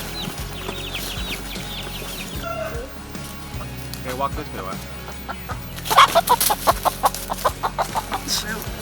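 A hen clucks near a chicken coop beside a garden shed, a run of short, rhythmic clucks close by growing louder toward the end, with a person speaking briefly early on.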